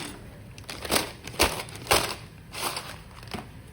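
Freshly fried, crispy Chinese pakoda (bhajiya) street food being handled on paper, giving several close, sharp crunchy crackles in uneven bursts with no talking.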